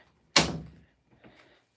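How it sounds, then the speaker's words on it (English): An indoor door is shut with one firm thunk, followed by a faint rattle or click as it settles, with no talking. "I'm going to shut this door"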